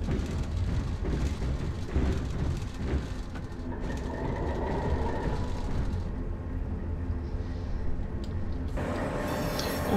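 A BR 132 'Ludmilla' diesel locomotive hauling a museum train of Donnerbüchsen coaches in Train Simulator 2018 rumbles steadily past a level crossing, a continuous low engine drone with rolling wheel noise and a brighter hiss rising near the end.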